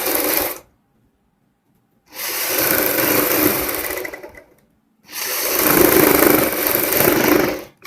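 Sewing machine stitching a fabric strip onto a sleeve, running in two loud, fast bursts separated by a pause, with a short start at the very end.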